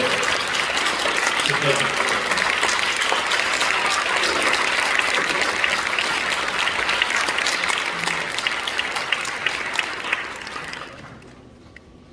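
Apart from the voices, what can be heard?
audience applause at a church service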